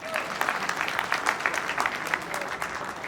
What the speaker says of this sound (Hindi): तो आप भी अपने लिए ताली बजा दीजिए।